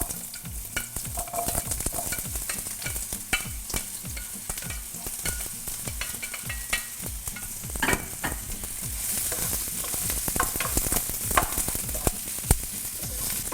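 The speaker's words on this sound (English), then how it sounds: "we're frying the onions only slightly with the sun-dried tomatoes" Onions and sun-dried tomatoes fry in a pan while being stirred: a steady close sizzle with a quick run of scraping, clattering strokes throughout.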